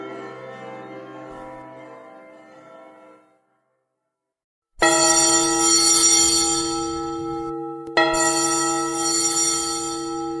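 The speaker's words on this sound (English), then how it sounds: "the swinging and the ringing of the bells" Loud resonant bells ring and decay, fall silent briefly, then strike again twice with long shimmering overtones.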